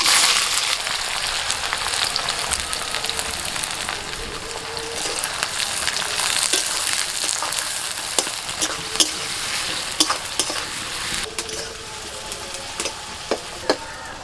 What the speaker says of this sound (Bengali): মশলাগুলো ভাজা হয়ে গেছে, এখন পেঁয়াজ কুচি দিয়ে দিচ্ছি।